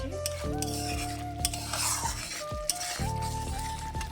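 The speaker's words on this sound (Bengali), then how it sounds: "ভালো করে কষে নেব মশলাটা" Spoon scraping and stirring a chilli-powder masala paste frying in a pan for green banana kofta curry, with a steady sizzle and occasional metallic clinks against the pan, close and clear with no talk.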